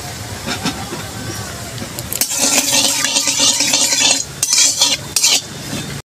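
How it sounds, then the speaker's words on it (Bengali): Two dried red chilies hit hot oil and mustard seeds, setting off a sudden loud hissing sizzle partway through that continues, broken by clatters of a utensil against the pan. "দেব আমি দুটো শুকনো লঙ্কা।"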